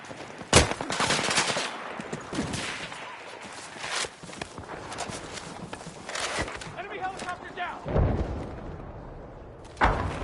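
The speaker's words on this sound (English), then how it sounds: "Enemy machine gun." Enemy machine gun fire in a Battlefield game, loud close bursts and sharp cracks mixed with heavy thumps and clatter, with voices talking over the fighting.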